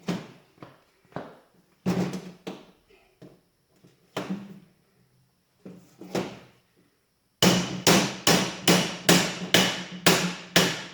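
Hammer blows setting rivets while mounting a woodstove onto a metal leveling platform, sharp ringing strikes in scattered pairs and singles, then a fast steady run of about eight evenly spaced hits.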